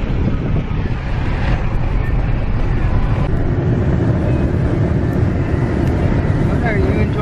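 Strong wind buffeting a microphone outdoors on a trip with a dog, a loud, steady broadband roar that runs through the whole stretch and masks other sound, with faint voices beneath it.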